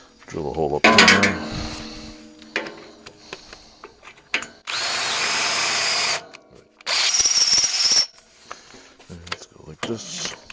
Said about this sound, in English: Drill a hole up there now.